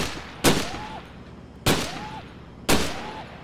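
Pistol shots in Gun Club VR, three sharp, loud single cracks spaced about a second apart, each followed by a short ringing tail and a faint metallic ping.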